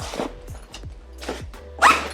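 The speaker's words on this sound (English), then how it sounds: "zip it, and Velcro it." Close zipper pulls on a sandbag, heard as several short rasping strokes in quick, uneven succession, ending with a louder final tug, and no voices.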